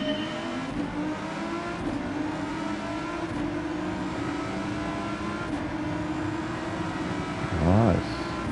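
The Volkswagen GTI VGT race car in a racing video game drones with a steady engine note that holds through the shift into second gear, and a brief rising whine comes near the end.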